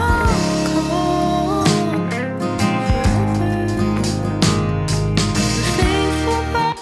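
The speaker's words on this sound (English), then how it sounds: "And then right here I do some panning with this guitar." Distorted electric guitar in a song, panned between the left and right channels, playing sustained chords and notes over a full band mix with drums, loud and continuous.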